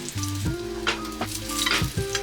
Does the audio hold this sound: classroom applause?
no